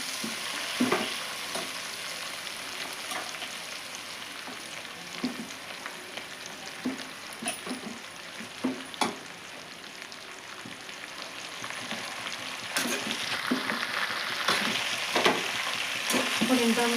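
Amaranth leaves fry in hot oil in a pan, a constant soft sizzle broken by scattered scraping stirs and clinks of the spatula, growing a bit louder near the end.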